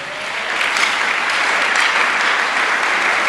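A church congregation applauding, dense and sustained clapping from many hands that fills the whole space evenly and loudly, without a break.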